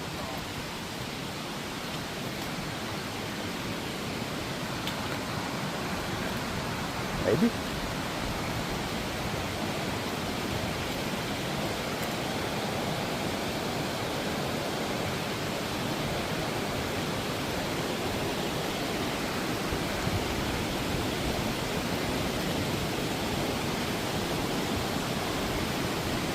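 Creek water near Turtletown Falls rushes in a steady, broadband wash, continuous and fairly close, with a faint word spoken briefly.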